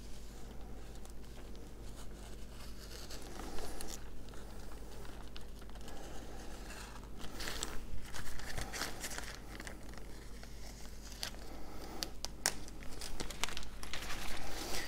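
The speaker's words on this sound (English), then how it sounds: "now it's just time to trim that excess off" A craft blade trims excess covering film off the edges of a foam FPV spec wing, giving soft crinkling, scraping and tearing sounds in irregular bursts close by, with occasional sharper crackles and no talk.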